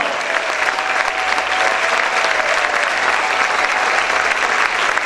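Worshippers in a church keep up loud, continuous clapping, a thick crowd of hands beating without a break.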